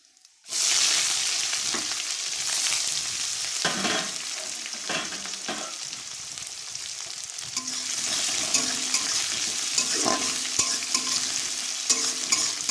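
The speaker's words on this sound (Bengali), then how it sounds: "পেঁয়াজটা আমি হালকা লাল করে ভেজে নিচ্ছি।" Sliced onions fry in a hot pan, giving a close, steady sizzle with occasional scraping stirs after a brief quiet start.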